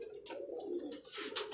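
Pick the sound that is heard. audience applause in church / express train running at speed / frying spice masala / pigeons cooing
pigeons cooing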